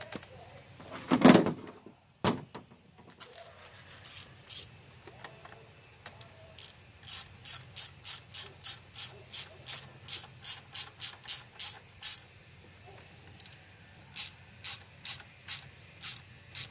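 Fuel pressure regulator bolt on a 2005 Chevrolet Cavalier 2.2 four-cylinder being tightened back in by hand ratchet: a long run of sharp, evenly spaced clicks close up, with a few louder knocks near the start.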